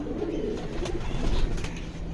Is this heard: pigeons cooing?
yes